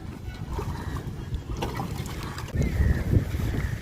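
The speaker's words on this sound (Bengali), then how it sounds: "নৌকা বিহার করে আসি" A boat rides on the Damodar river near a bridge, a steady low rumble with water splashing and creaking mechanical sounds that grow louder toward the end.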